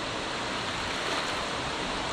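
Steady, even rush of a river swollen after the rainy season, flowing water filling the scene at a moderate level without pauses or voices.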